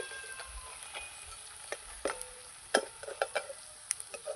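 Leaf-wrapped fritters frying in hot oil give off a steady sizzle, with scattered sharp crackles and pops growing busier partway through, heard up close with no talking.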